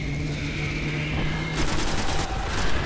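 An enemy ship firing in the Destiny video game, a dense rapid burst of gunfire that swells partway through over a steady droning background, loud and close, with no talk.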